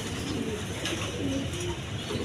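Mondain pigeons coo in low, repeated rolling calls from a big-sized bird in a cage, sounding close and steady against a faint background hum.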